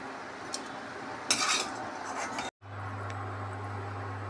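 Metal utensils clink and scrape against a pan and plate as fried bitter gourd is moved from a kadai, a short rattling burst followed by a steady low hum.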